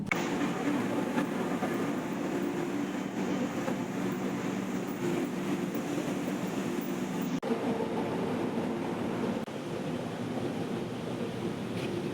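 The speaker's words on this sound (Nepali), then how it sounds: "अब हामी ट्रेनमा छौँ" Steady rumbling of a train rolling along the rails, a continuous broad roar heard from inside the carriage with no talking.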